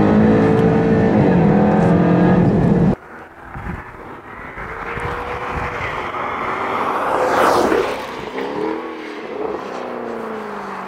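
A fast performance car accelerating hard through the final corner of a timed track lap, engine roaring loud and close, then dropping to a lower, rising drone as it powers out and pulls away.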